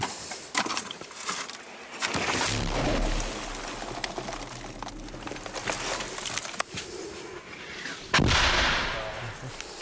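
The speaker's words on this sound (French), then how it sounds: "Pilonnés par l'artillerie" Artillery shelling strikes Kachin soldiers' front-line trenches, booming blasts and sharp cracks ringing out at irregular intervals, with a heavy low rumble rolling between loud and distant impacts.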